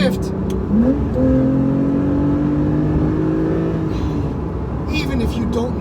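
A 2018 Porsche 911 Carrera T engine revs loud and close inside the cabin, its tone climbing and dropping through gear shifts in a steady, continuous drone with no talk.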